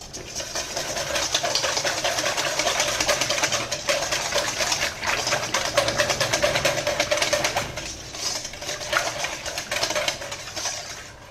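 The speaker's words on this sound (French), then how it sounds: "Donc là le mieux c'est de le fouetter sinon ça va faire des grumeaux." A whisk beats a batter of honey, milk and baking soda in a bowl with rapid, steady rattling strokes, close and fairly loud, continuing for about ten seconds.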